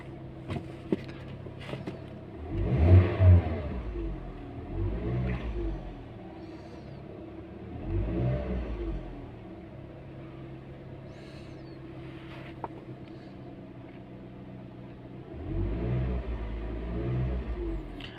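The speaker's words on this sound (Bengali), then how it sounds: "কি 8-এর মডেলের গাড়ি, এত সুন্দর সাউন্ড ভাই, সুপার সাউন্ড" A 2008 Toyota Premio car engine revs in several deep, rumbling swells over an idle, with the loudest bursts near the start and end.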